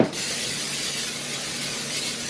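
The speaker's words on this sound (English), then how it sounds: "Give it the good old Pam sprayed nonsense" Pam cooking spray hisses steadily into a pan in a short, close, continuous burst.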